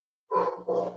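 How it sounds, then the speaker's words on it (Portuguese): Two quick, gruff barks from a dog, close and fairly loud, with a brief pause between them and silence beforehand. "que eu tava ouvindo o cachorro latindo"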